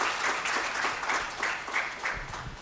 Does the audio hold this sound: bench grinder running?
no